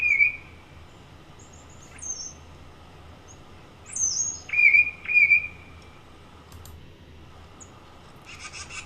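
A male songbird sings outdoors, switching between song types: a few clear, high whistled notes and phrases separated by pauses, with a louder pair of bright whistles near the middle and faint background chirps.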